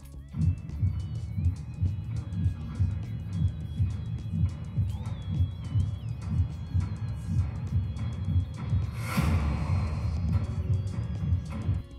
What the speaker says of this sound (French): en bas, on a un autre effet sonore d'ambiance de battement de cœur